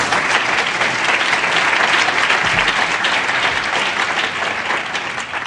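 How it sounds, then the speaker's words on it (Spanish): Loud, sustained applause from a seminar audience for an online journalism debate panel, dense even clapping that carries on without a break for the full five seconds. "quiero que le dediquéis un aplauso"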